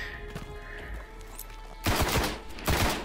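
Gunfire rings out in Destiny, a few sharp shots at first and then two heavy bursts of rapid fire, close and loud over a faint tonal background.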